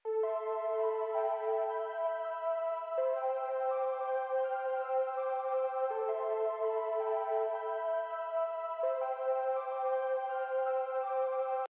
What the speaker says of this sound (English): We've got a serum pad here.